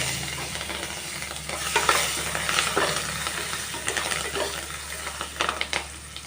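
Asafoetida and spices sizzle in hot oil in a pan for a lemon rice tempering, a close, steady frying hiss broken by brisk stirring scrapes and a few sharp pops.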